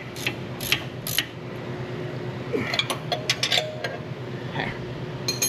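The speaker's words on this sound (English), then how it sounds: "So we're gonna tighten it till it's tight and holes line up." A wrench works a steering ball joint on an off-road vehicle during a Dynatrac ball joint and steering upgrade. Close, faint metallic creaks and ticks sound against a steady mechanical hum, with sharper clinks near the end.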